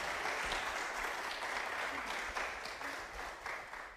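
A church congregation at a Sunday service applauds in welcome, a sustained, fairly even round of clapping from many hands that tapers slightly toward the end.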